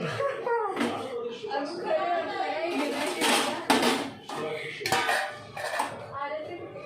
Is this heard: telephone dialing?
no